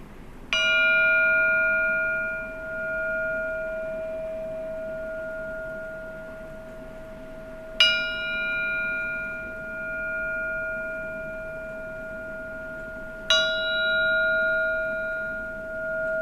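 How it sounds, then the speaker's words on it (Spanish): Three resonant metallic gong strikes closing a meditation session, each ringing out with a long, sustained tone that slowly fades before the next hit, spaced several seconds apart. "Seguidamente van a escuchar el gong"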